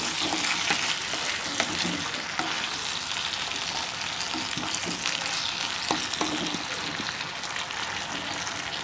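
Chunks of yam sizzle and crackle in hot oil in a pan while cooking for a tamarind kuzhambu, a steady, close, bright frying hiss with scattered pops throughout.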